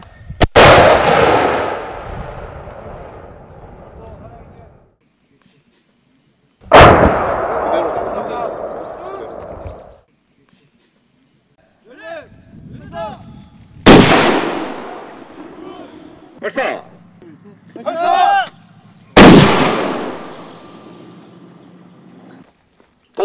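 ROK Army 60mm, 81mm and 107mm mortars firing during live-fire training, four loud, close blasts, each with a long, rolling decay, spaced several seconds apart, with shouted commands between shots.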